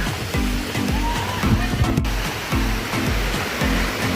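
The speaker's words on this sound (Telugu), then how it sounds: "వచ్చేసే మన 5th వాటర్ ఫాల్స్." A waterfall at Malshej Ghat in Maharashtra, loud continuous roaring rush of falling water heard close, with regular low rumbling pulses underneath.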